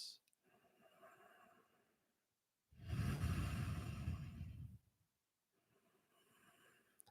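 A single long, deep breath is taken during a yoga pose, a breathy rush rising near the microphone and fading after about two seconds, framed by quiet room tone with faint murmurs.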